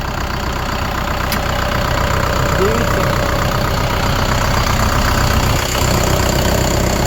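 A tractor engine idles with a steady, even chugging rumble up close, with a brief spoken word partway through.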